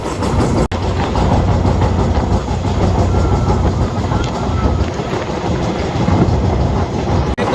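Nilsagar Express passenger train running fast over the new Jamuna rail bridge line, a steady loud roar of wheels and carriage rumble heard from on board, with wind buffeting throughout.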